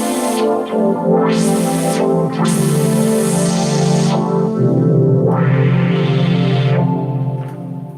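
A bright Micron synthesizer tone loops over a drum machine beat on an Akai MPC, with sweeping filtered swells rising and falling, loud and processed with echo-like effects.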